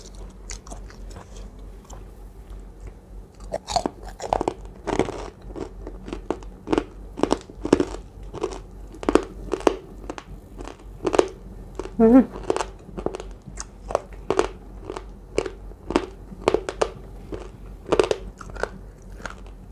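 Crunchy fried pork rind bitten and chewed up close, loud crisp crackling crunches repeating steadily through the clip, with a voice briefly heard among the bites.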